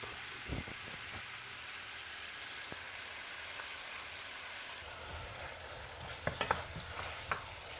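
Ground beef browns in a pan with a steady, fairly quiet frying sizzle. A few clicks and taps from cooking utensils come near the end.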